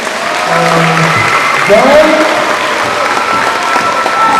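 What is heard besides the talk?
audience applause and cheering at pageant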